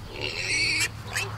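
Pigs in an electric-netting pen squealing close by, one long sustained high squeal followed by a shorter second squeal, over a low background hum.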